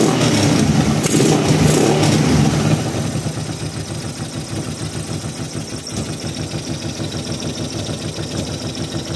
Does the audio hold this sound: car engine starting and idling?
yes